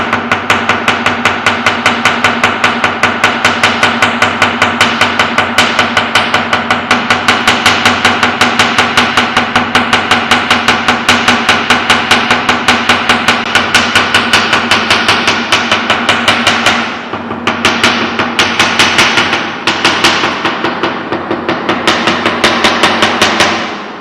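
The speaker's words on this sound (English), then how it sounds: "So in the same way you have to hammer all the things here" Steady, rapid hammering, a fast continuous stream of hard taps hammering leaves onto fabric for Hapa Zome eco printing, with a couple of brief pauses near the end.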